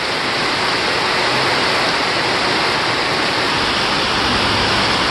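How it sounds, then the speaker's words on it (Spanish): Heavy rain from a strong hurricane pours down steadily in a dense, loud roar, unbroken for the whole stretch with no voices. "Miren que esta lluvia se nos vino bien recia."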